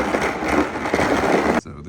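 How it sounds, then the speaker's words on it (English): Tap water pouring steadily into a bucket while preparing a car wash, a dense continuous rushing that stops abruptly near the end. "just filling up my bucket"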